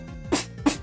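Two sharp, punchy beatboxed basic snare hits, a vocal imitation of a snare drum made by mouth, spaced about a third of a second apart and heard alone.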